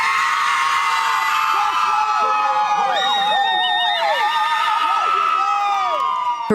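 A crowd of extended family and loved ones cheers, whoops and shouts continuously as a graduate in cap, tassel and stole jumps into a river, with excited voices and high yells layered over steady outdoor noise.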